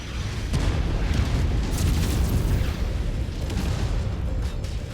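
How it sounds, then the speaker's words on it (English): Artillery explosions in the MechWarrior 5 video game, a continuous barrage of booming blasts and bursts layered over one another, dense and fairly loud with no speech. "I don't want to get hit by this artillery."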